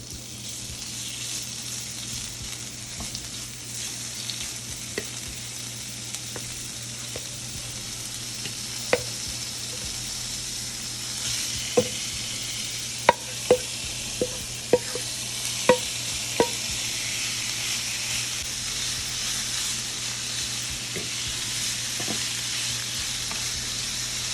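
Pepper steak sears in a hot pan with a steady, close sizzle. A few sharp clicks and taps from a utensil against the pan break through the frying hiss.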